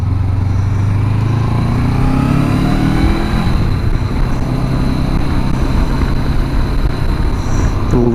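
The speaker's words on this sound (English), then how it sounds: "Get a little experience on this motorcycle." A Honda CB500X motorcycle cruising on the 405 freeway, a steady loud engine drone with rising rev tones, heavy wind rush and road roar, no talking.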